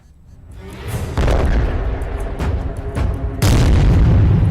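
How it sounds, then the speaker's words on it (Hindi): Heavy bombing explosions in Gaza thunder with loud, deep booms, one heavy blast followed by rolling rumble and a second powerful blast near the end. "गाजा पर इजराइल की बमबारी"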